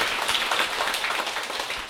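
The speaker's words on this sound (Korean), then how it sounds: "감사의 박수 부탁드리겠습니다" Audience applause at a Korean morning assembly gathering, a steady dense wash of clapping filling the whole stretch at moderate loudness, no voices over it.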